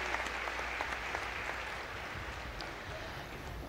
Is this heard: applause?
yes